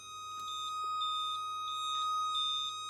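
A Ferrari F355 Spider sounds its door-open warning, a rapid string of high, thin electronic beeps repeating steadily over a quiet hum.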